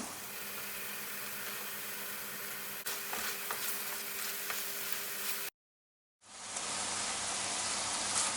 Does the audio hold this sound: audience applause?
no